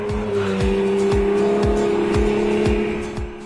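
A Porsche 911 sports car drives hard, its engine note holding a strong steady drone while rhythmic pulses repeat about twice a second, loud and close, with no talk.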